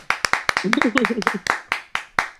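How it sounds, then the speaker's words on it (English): Sharp hand claps ring out one by one in a slow, irregular run at a morning show grand-opening announcement, close and distinct, while a voice talks over the middle stretch. "Let's clap."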